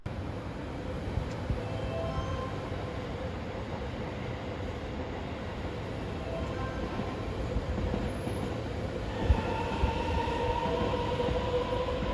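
An express train on the Hokuso Line passes without stopping, a steady loud rolling rumble with faint wheel clatter and squeal running the whole time, close by and with no talk over it.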